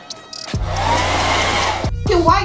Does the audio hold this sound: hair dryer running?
yes